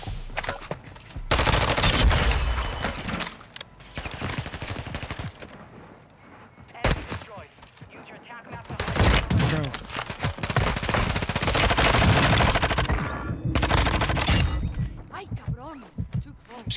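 Rapid submachine gun fire from a VEL 46 (MP7) in Warzone 2 comes in loud, dense bursts and sustained sprays separated by short pauses, with voices talking over the shooting.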